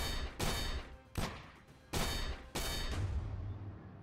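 Gunshots from the aim-training game AIM Lab: four loud, separate shots spaced irregularly, each with a lingering reverberant tail, no talking.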